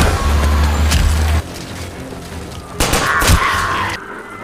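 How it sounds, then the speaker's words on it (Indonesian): Bursts of gunfire crack out during a zombie-outbreak action film scene, loud clustered shots with a heavy low boom, then a short lull before another sharp volley. "Dan baku tembak pun terjadi."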